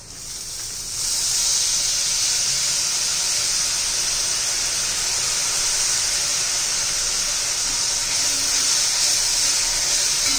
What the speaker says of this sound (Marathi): आता आपण दही घालणार आहोत. 2 चमचे दही घालायचे.